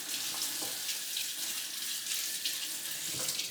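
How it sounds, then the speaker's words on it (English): Running tap water pours steadily over soaked raw cashews being rinsed in a sink, a continuous close hiss of splashing water with no talk. "I'm going to drain and rinse them right now."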